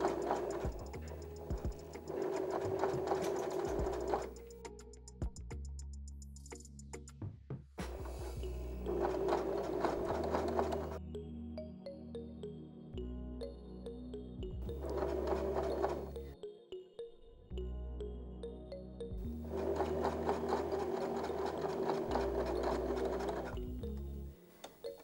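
A sewing machine stitches through a bulky leather bag in long, steady runs of rapid mechanical ticking, pausing several times between passes before starting up again, close and clear with no talking.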